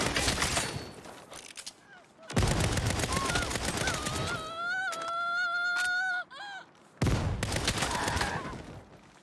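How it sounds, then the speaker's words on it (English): Flashbang grenade bursts in a Saints Row video game amid a chaotic firefight, with sharp blasts and gunfire, followed by a sustained ringing tone from the stun effect before the action resumes loudly. "Get ready. Flashbang incoming."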